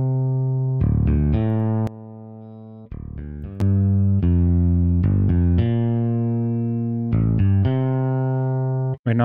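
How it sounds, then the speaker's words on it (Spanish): Electric bass line run through a saturator plugin in Reaper, adding controlled harmonic distortion for warmth; sustained, buzzy low notes change pitch in a steady melodic sequence, loud and up front with no voices. "agregó esa distorsión armónica controlada para agregarle calidez a este bajo"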